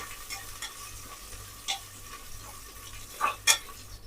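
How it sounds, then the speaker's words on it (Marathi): Mustard seeds, cumin, green chillies and ginger spluttering in hot oil for a tempering, with a steady sizzle and a few sharp pops and clinks near the end. "राई जिरं आणि मिरची आणि आल्याची मस्तपैकी फोडणी केली"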